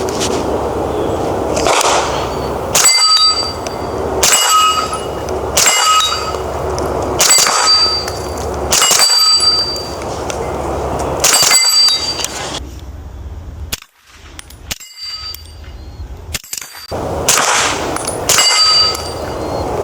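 Repeated shots from a suppressed Springfield Kuna pistol-caliber carbine, each followed by a sharp ringing clang off a steel target at about 50 yards, roughly a dozen impacts in a steady rhythm with a brief pause midway.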